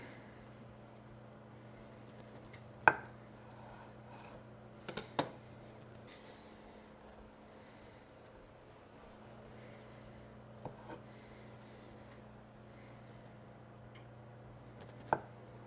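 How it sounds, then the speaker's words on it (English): A knife chops the small ends off sweet potatoes, giving a few sharp, sparse knocks on a board over a quiet hum in a kitchen. "Chop off the little ends."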